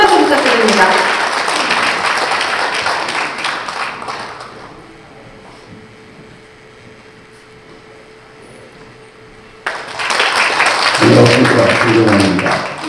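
Audience applause at an event ahead of a congratulatory speech by a former TBS traffic broadcasting president: a burst of crowd clapping, a quieter gap, then another round of applause, with a voice speaking over parts of it.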